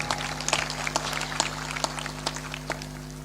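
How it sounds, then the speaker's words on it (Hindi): A small audience at a Hindu religious discourse gives faint, sparse clapping, scattered individual claps under a steady electrical hum with no talking. "तालियां इतनी कमजोर क्यों बजाते हो?"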